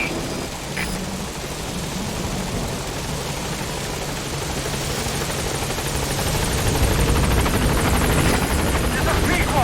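Helicopter arriving at a landing zone in Metal Gear Solid V: The Phantom Pain, a loud, dense rotor roar and whine that swells slightly as it nears, with a voice speaking over it.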